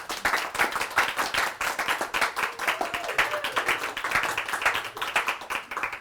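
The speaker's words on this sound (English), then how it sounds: "Thank you for the applause." Steady applause from a crowd, dense clapping that keeps going throughout with a few louder claps standing out.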